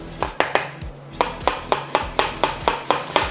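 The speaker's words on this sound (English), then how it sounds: "Okay, let's get slicing." A knife slicing onions on a chopping board for onion soup, a steady run of crisp close cuts about three or four per second, each ending in a knock on the board, with no talking.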